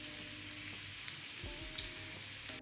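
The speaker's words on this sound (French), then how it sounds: "dans une poêle, j'ai fait revenir un petit peu de tofu nature avec de la sauce soja sucrée" Plain tofu fries in a pan with sweet soy sauce, giving a low steady sizzle with a few soft clicks of stirring. It is close and quiet, and nobody talks.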